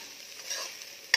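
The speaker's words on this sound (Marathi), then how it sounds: "तर खोबरं टाकून हे छान असं मध्यम ते मंद आचेवर भाजून घ्यायचं आहे." Grated coconut dry-roasting in a pan over medium-low heat, a soft steady crackle of stirring with one sharp scrape near the end, close and quiet.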